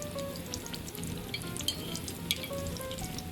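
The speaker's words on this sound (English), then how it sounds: "let's go deep fry the pork chop" A breaded pork chop deep fries in hot oil, a steady close crackling sizzle with scattered sharp pops and spits running throughout, no voices.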